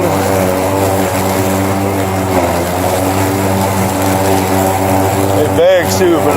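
A Ryobi 20-inch battery-operated self-propelled lawn mower runs with a steady, close electric whir and hum. The drone stays even throughout, with a voice talking briefly near the end.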